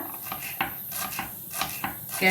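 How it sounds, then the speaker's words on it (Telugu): Knife chopping onion, green chillies, carrot and coriander finely on a board, a quick irregular series of crisp taps close by, with no talk. "ఇప్పుడు ఒక ఉల్లిపాయ, ఒక 5-6 పచ్చిమిరపకాయలు, ఒక క్యారెట్, కొంచెం కొత్తిమీర కోసుకుందాం సన్నగా"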